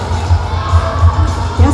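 Crowd cheering and whooping at a roller derby bout involving the Spokane team, a loud burst of shouts and cheers with a lively, pulsing crowd din.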